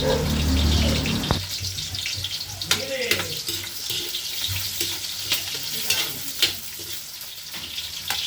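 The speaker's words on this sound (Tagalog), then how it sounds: "Sibuyas, bawang ang ating igigisa at isasabay na rin natin ang miso." Onion and garlic sauté with miso in a pan for salmon sinigang, giving a steady sizzle with spoon-stirring scrapes and clinks throughout, plus a brief run of water at the start.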